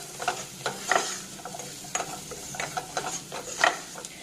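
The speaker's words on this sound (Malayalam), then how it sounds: "എന്നിട്ട് ഇത് നന്നായിട്ടൊന്ന് സോട്ട് ചെയ്തെടുക്കണം" Vegetables sautéing in butter in a pan over a medium flame for white sauce pasta, heard as a soft sizzle broken by repeated, evenly spaced scraping stir strokes, close and moderately quiet.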